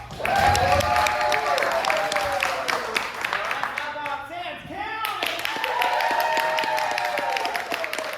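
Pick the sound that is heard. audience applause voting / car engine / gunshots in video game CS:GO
audience applause voting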